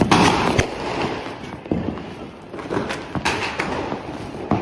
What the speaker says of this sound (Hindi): Sky shot? हाँ। कौन सा वाला? दूसरा है ये। चल जला।